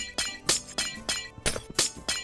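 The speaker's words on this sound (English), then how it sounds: "I was breaking ice to get ice cubes." Ice blocks breaking in the Minecraft video game: about seven crisp, glassy shattering crunches in a quick, steady rhythm, each one sharp and close, with no talking.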